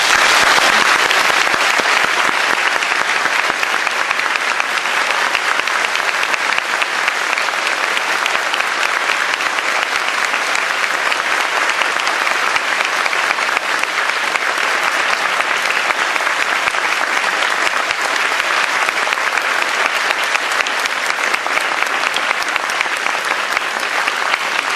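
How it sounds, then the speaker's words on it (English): Steady, dense audience applause in a Tokyo University hall welcoming Daw Aung San Suu Kyi onto the stage, a continuous even roar of many hands clapping without a break. "Please give her a round of applause."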